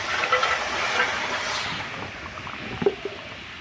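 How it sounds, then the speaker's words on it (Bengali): Mung dal pours into a hot pan of fried prawns with turmeric, releasing a loud broad hiss of steam and sizzle that gradually fades, with a couple of small knocks near the end. "এবার আমি ডালটা ঢেলে দেব"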